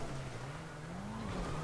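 A video game car accelerates while fleeing police, its engine note climbing and wavering in a continuous rev at moderate distance, with no talk over it.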